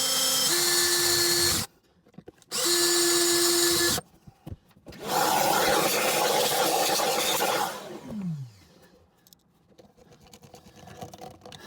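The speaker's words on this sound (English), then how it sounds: "next step is we want to install these screws" A power drill drives screws while installing a charger on a Malibu 21 MLX boat: two short whirring bursts, then a longer grinding run that winds down into quieter handling noises.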